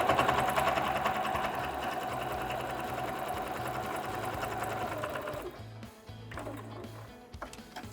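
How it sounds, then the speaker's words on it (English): A sewing machine runs steadily, stitching rows along the sides of a fabric box pouch, a dense mechanical whir that stops around the six-second mark before a few brief bursts of needle action. "And then we just want to stitch down either side here."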